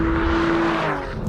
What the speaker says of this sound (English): That howl that we all know from a Porsche flat six is still here like crazy.